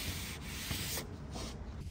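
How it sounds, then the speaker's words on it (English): Steady rhythmic sanding of wood, a coarse rasping scrub in back-and-forth strokes, close and fairly loud, with no talking. "I just finished sanding the top"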